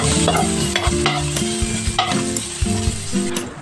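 Food sizzles steadily while frying in a small amount of cooking oil until golden brown, with a continuous close crackle and occasional stirring scrapes throughout.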